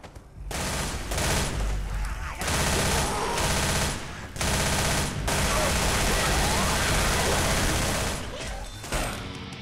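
Bursts of Uzi submachine gun fire from the video game Left 4 Dead rattle in rapid, sustained strings separated by short pauses, loud and dense.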